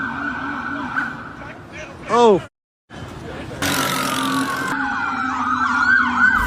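Police patrol car sirens wailing during a chase, rising and falling sweeps loud and close, then a brief silence before wailing sirens and broadband noise return with another voice briefly exclaiming.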